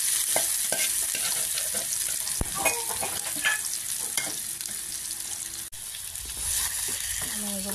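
Marinated meat fries in hot oil, a loud, continuous close sizzle broken by occasional sharp clatters of stirring against the pan, no talking.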